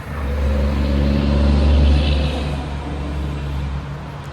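Heavy trucks rumbling past on a city street, a loud low engine drone that swells toward the middle and fades slightly, continuous with no talk.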